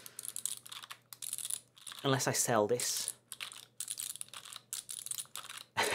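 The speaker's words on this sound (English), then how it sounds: "This is probably the only clicky switch keyboard I'll ever own." Typing on a clicky-switch mechanical keyboard, clusters of sharp, rapid clicks coming in bursts close by, broken by a brief spoken remark in the middle.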